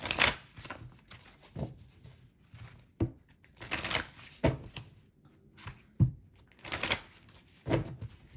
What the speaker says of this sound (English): let me go ahead and do a quick shuffle